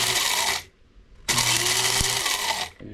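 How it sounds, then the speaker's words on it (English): Krups coffee grinder grinding dehydrated peppers and their seeds, a loud close motor whir in two long bursts separated by a brief pause. "It's grinding up all the pepper, you know, the body of the pepper and also the seed."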